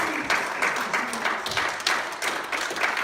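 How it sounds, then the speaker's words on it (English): Church congregation clapping hands in worship, a steady, dense patter of many hands with faint voices underneath. "Go ahead and clap your hands to the Lord."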